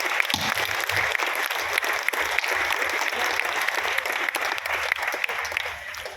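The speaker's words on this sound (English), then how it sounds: "give a round of applause to all the extraordinary people who make it possible" Audience at the Bangalore literature festival applauding, a broad, sustained wash of many hands clapping for several seconds, steady and moderately loud before fading slightly at the end.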